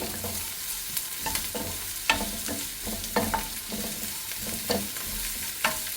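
Ginger, garlic and green chili fry in a hot pan, giving a soft steady sizzle with repeated scraping stirs of a spoon every half second or so, close and fairly quiet, with no talking.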